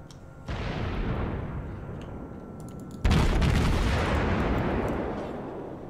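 Naval gunfire in World of Warships: two heavy booming salvos a few seconds apart, each a deep loud blast trailing into a long rumbling decay.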